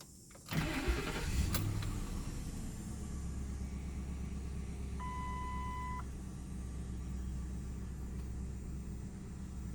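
A 2011 Lincoln Town Car engine cranks and fires, then settles into a steady low idle rumble, with a brief electronic chime sounding partway through; no one speaks.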